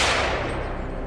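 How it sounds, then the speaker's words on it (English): A single loud rifle shot is fired at a wild boar during a hunt, a sharp broadband blast that fills the moment and then decays quickly. "I raised my rifle and pulled the trigger with precision"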